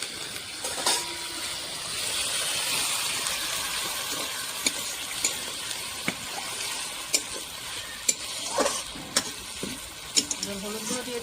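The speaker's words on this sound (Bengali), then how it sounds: "এবার আমি পেঁয়াজ বাটা আর কাঁচা লঙ্কা বাটাটা দিয়ে দিচ্ছি।" Onion and green chili paste fry in a pan with garlic and chopped tomato, giving a steady sizzle broken by scattered clicks and scrapes of stirring, fairly close.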